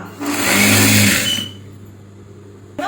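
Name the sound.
sewing machine stitching a pillow cover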